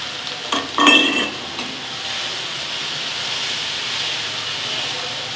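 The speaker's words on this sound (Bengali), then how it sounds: "অল্প জল দিচ্ছি কষানোর জন্য" Spiced fish masala sizzling in a pan as a little water is added, with a brief burst of stirring and spatter followed by a steady, loud hiss of frying and steam.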